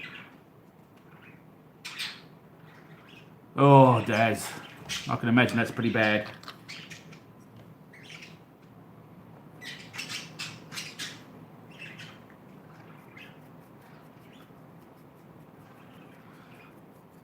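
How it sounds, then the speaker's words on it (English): Pet birds squawking and chirping in a room during a chat while painting Warhammer miniatures, with a loud burst of harsh squawks in the middle and scattered short chirps afterward, mixed with conversation. "See, the birds agree."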